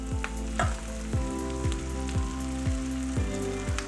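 Marinated soya chaap sizzling and frying with onions in a pan, a steady close crackle and hiss broken by regular knocks of stirring, with no talk.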